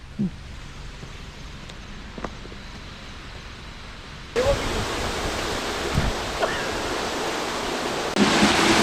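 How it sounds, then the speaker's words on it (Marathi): A monsoon waterfall at Dhareshwar produces a broad, continuous rushing roar that jumps louder midway and again near the end, with a few faint knocks in the mix. "हा नयनरम्य धबधबा या ठिकाणी आपल्याला बघायला मिळत आहे"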